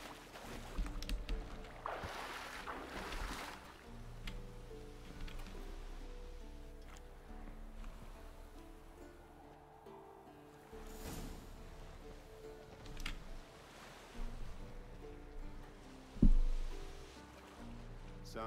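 Wooden boat crossing a lake in The Witcher 3, with a soft steady wash of water lapping and splashing against the hull, continuous and fairly quiet, with a few brief louder knocks.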